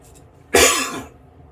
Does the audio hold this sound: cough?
yes